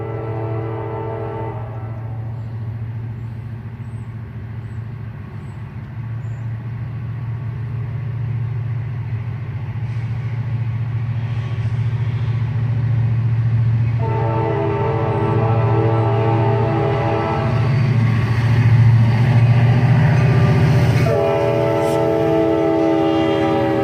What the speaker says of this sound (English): This train is led by a GP30 road slug.